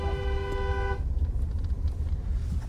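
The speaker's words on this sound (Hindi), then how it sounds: "देखो गाड़ी कैसे आ रही है एकदम से 1 वे।" A car approaching on a narrow, one-way mountain road above a steep drop near Shimla: a loud horn honk for about a second, then close engine and road rumble.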